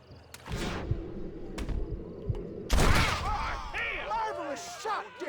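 Gunshots ring out in the Western video game Red Dead Redemption: a few sharp, loud reports with a heavier burst near the middle, mixed with game voices and musical sounds.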